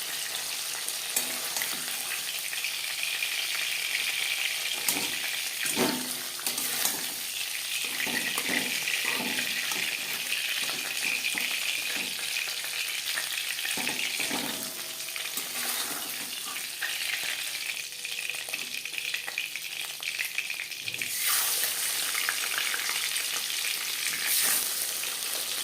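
Katla fish pieces frying in a batch of hot oil, a dense, loud, continuous sizzle and crackle heard up close for the whole stretch, with occasional clatters of a spatula.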